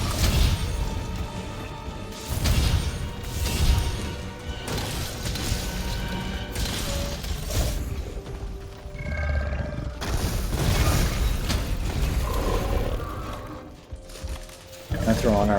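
Alatreon's fire breath attack in Monster Hunter, a roaring blast with heavy booming impacts and crashing bursts layered over game music, with someone talking over it.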